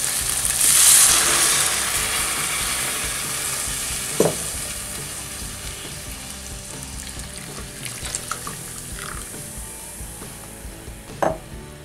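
Beer hits a hot pan of browned pork chops, setting off a loud, hissing sizzle that swells early, then settles into a steady fry with a few sharp pops.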